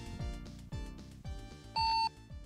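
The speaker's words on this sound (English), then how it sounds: "Oh, all different sounds I can pick for the Roger, beep." A radio Roger beep in American Truck Simulator gives one short, clean electronic tone that cuts in over a rhythmic, pulsing background.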